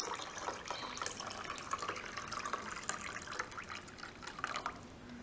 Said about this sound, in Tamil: இப்போ நம்ம தண்ணி விட்டுக்கலாம்.